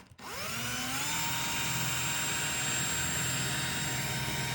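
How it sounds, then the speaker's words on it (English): A cordless power drill with a worn, dull bit spins up and drills steadily, a loud continuous whine with harmonic tones that holds for several seconds after a brief start, checking insulation in a solar sunroom. "Ooh, this drill bit is bad."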